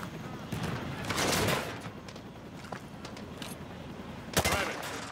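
Call of Duty Modern Warfare 2 training range gunfire, shots aimed through a wood panel: a couple of bursts of sharp reports, one sustained early and another brief near the end, moderately loud amid faint background movement.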